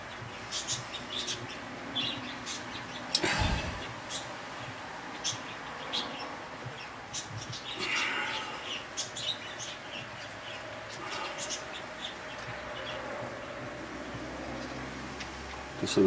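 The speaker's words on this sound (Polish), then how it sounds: "Papugi nam też kibicowały, widzę. Nimfy i" Cockatiels and budgerigars chirp and tweet intermittently at a distance, with scattered clicks and a soft background hum.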